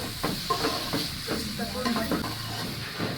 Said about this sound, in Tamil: சேர்த்துட்டு நல்லா மிக்ஸ் பண்ணிக்கிறேன்.